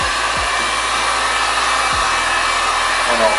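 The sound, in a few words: heat gun warming Arlon vinyl wrap film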